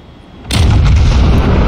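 Warship secondary guns fire in World of Warships, a sudden loud, full-bodied boom that rolls on as sustained rumbling gunfire with no talk.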